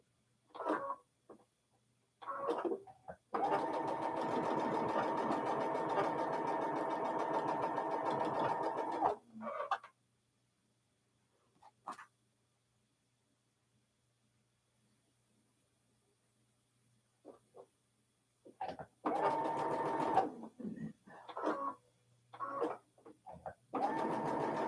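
Sewing machine stitching hourglass quilt units, a steady run of about six seconds between shorter bursts of stitching, close and clear, with a quiet stretch in the middle and no talk.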